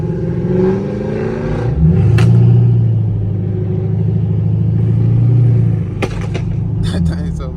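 A loud, deep engine rumble swells as a catless Chevrolet Camaro SS revs hard, the throaty roar rising and falling with bursts of clatter, voices heard briefly over it.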